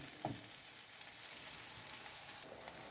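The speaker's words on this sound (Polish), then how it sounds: "W puste miejsce wlewamy sos i doprowadzamy do wrzenia." Steady bubbling sizzle of sauce for Korean-style shrimp pasta coming to a boil in a pan, a soft continuous hiss with a small clink near the start.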